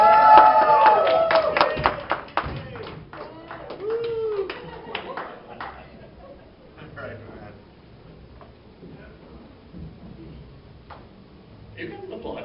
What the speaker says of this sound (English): You can applaud, keep going.